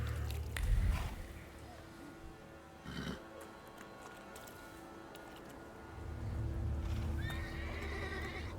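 A horse in a video game whinnies and neighs at the start, then hooves clip-clop at a steady pace, with another whinny near the end over continuous ambient game sound.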